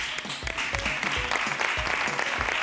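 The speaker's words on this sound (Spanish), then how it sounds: "vamos a recibir ahora con un fuerte aplauso a Ángel" A television game-show studio audience applauds as a contestant is welcomed, a fairly full wash of clapping with music or low thumps pulsing underneath.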